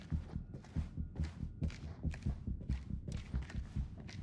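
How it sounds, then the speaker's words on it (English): Footsteps trail close behind the player character in the horror game House of Ashes, a steady run of soft, low thuds repeating about three times per second for several seconds, with no talk over them. "I definitely heard her footsteps behind me."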